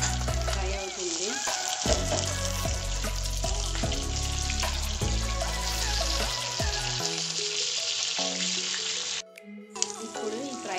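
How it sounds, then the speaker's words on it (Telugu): Fish frying on a chapati tawa gives a continuous bright, crackling sizzle that runs for most of the stretch, mixed with tonal, music-like sounds. It drops away briefly near the end before resuming. "మన ఫిష్ పర్ఫెక్ట్గా ఫ్రై అవుతుంది."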